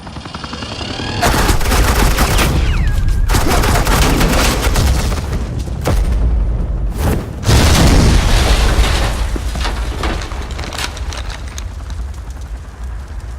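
Sustained automatic gunfire from Batman: The Enemy Within, loud dense bursts of rapid shots with brief gaps, close and continuous for several seconds.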